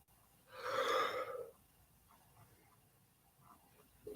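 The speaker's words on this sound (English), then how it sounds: "Sorry for yawning, folks." A person yawning, one long breathy exhale that swells and fades over about a second, close and fairly loud, followed by quiet breathing.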